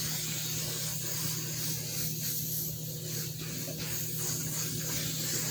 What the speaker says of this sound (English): And then we come with the oil sheen.